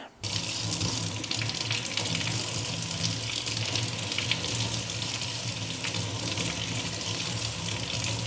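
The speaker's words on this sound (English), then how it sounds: "I'm gonna rinse this under the sink really good." Monstera plant roots rinsed under a running kitchen sink tap, a steady strong gush of water splashing continuously and close after a short quiet start, with no talk.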